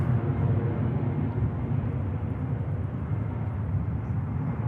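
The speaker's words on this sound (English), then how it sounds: "But that EasyJet just beginning the 537 nautical mile flight to Geneva" An EasyJet airliner departing Manchester Airport for Geneva gives off a steady, broad, low jet roar at a distance, continuous and without talk.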